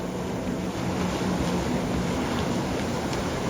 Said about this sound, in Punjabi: ਆ ਸਪੀਡ ਬੋਟ ਜਾ ਰਹੀ ਆ